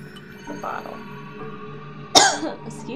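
A single sharp cough, close and fairly loud, bursts out over quiet background sound from the game Alice: Madness Returns.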